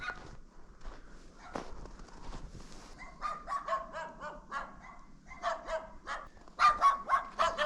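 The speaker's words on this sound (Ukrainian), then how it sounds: "Собаки вже активізувалися, гавкають, як бешені." Several dogs bark repeatedly at middling distance in a Ukrainian village of old clay-walled houses, the yaps growing busier and louder toward the end, with no one talking.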